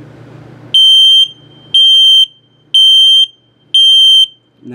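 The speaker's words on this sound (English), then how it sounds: "and then low battery alarm" A carbon monoxide/LP detector in a 2022 Flagstaff HW27KS travel trailer sounds its low-battery alarm: four loud, evenly spaced high-pitched beeps, each about half a second long, close by with a faint hum between them.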